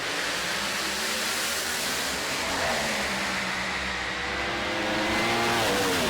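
Top alcohol funny car drag racers roar through a final at an Australian drag racing event in 2008, a loud, sustained engine howl with rising pitch sweeps, close and continuous, with no voices.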